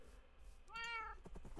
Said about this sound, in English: Don't step on the kitty.